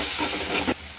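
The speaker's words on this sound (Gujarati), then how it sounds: "હવે આપણે ટમેટા કટિંગ કરેલા છે એ ઉમેરી દઈશું. સારી રીતે મિક્સ કરી લઈશું." Chopped tomatoes stirred into a hot pan over low heat for tomato chutney, giving a short burst of close, steady sizzling hiss with spoon scraping that cuts off abruptly near the end.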